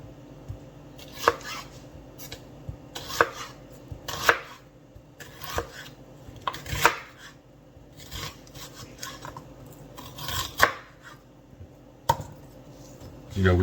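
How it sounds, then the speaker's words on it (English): A knife slices through a whole onion on a cutting board at an angle into fairly large pieces, giving a series of crisp, spaced chops with soft rubbing between them, close and moderately quiet. "Let's cut these onions. I want fairly bigger slices,"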